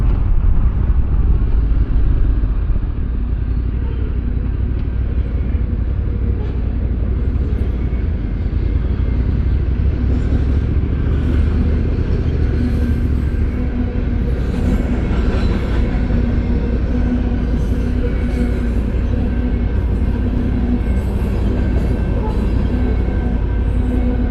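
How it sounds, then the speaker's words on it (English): A train rumbles steadily past, loud and close, a continuous low roar with rattling wheels lasting throughout, no one speaking. "Guess I'll wait for the train right over here."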